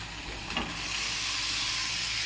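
Mushrooms hissing and sizzling in a hot pan with onion and tomato paste, a steady close frying hiss that swells after a brief stir, with no talking.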